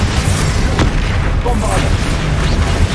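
Fiery spell blasts from the Confringo curse in Hogwarts Legacy, close booming bursts amid combat effects, with a voice calling out spell names.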